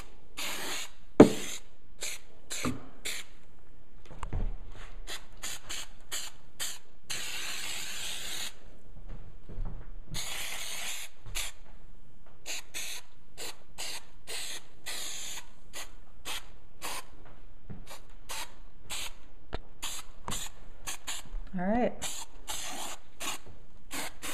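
Repeated short bursts of spraying adhesive hissing inside a car trunk lid, some brief and some sustained, broken by pauses and faint mechanical clicks, close by.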